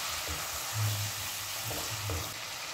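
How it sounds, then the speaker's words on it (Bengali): A Bengali spice paste for bethua greens sizzling in a pan as it is sautéed, with a steady frying hiss throughout and a few soft stirring scrapes rising briefly above it. "খুব ভালোভাবে কিন্তু মশলাটাকে কষিয়ে নিতে হবে।"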